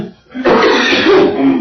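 Single cough at a school board meeting, close and loud, after a brief quiet moment, with a rough throaty tail lasting about a second.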